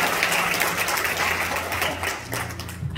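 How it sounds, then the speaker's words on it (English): A church congregation at a Sunday worship service claps in praise, a thick wash of hands over a low sustained organ or keyboard tone, fairly loud and continuous before thinning at the end. "So let's give God a hand clap and praise for that."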